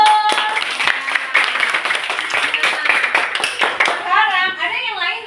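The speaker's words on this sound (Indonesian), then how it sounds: "Ya, tepuk tangan dulu." Fourth-grade pupils in a classroom clap their hands during a science lesson, a few seconds of scattered, fairly close clapping followed by children's voices calling out.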